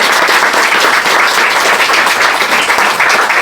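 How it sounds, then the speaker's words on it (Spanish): A crowd at a book presentation for 'Memoria de Carabanchel' claps in loud, steady applause, continuous and close throughout. "otra vez un aplauso ahí."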